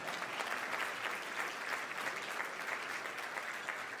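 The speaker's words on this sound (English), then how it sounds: "please give them a nice round of applause" Audience applause at a charity livestream event honoring community champions, a steady wash of many hands clapping continuously and evenly throughout, moderately distant with no voices on top.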